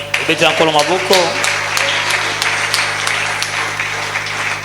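A church congregation applauds, with steady clapping from many hands filling the room, a voice speaking over the start, and the cheering staying loud right to the end.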